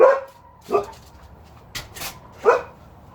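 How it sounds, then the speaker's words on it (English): A dog that wants to be let into the house barks in three separate bursts, close and fairly loud, with quieter shuffling noises between the barks and no talking. "Dog's going crazy. She wants to get in the house."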